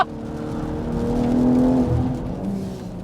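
BMW 440i Gran Coupe in manual mode accelerating hard, a loud close engine note rising in pitch and swelling, then easing off slightly toward the end.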